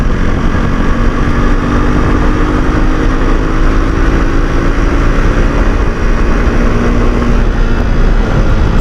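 A Jawa 42 BS6 motorcycle pulls from the mid-range with a steady, loud engine drone that holds close and constant for several seconds, sounding alone with no talking.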